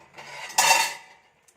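Ground masala paste for a jackfruit seed and prawn curry is poured into a cooking pot. A single close, brief burst of metallic clatter and scraping from the utensil against the pot fades quickly to silence.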